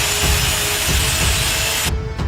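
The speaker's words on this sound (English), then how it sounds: "Grind, grind, and grind again till it's" Floor grinder working a spec-house floor in Lighthouse Point before base coat and chip flooring go down: a loud, steady abrasive drone with rhythmic low thumps as the machine sweeps, cutting off abruptly near the end.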